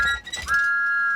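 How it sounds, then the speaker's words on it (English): A cartoon steam train whistle blows, a bright sustained tone holding steady for over half a second after a brief rising start, clear and fairly loud with little else around it. "Thomas was so excited, he blew his whistle louder than ever."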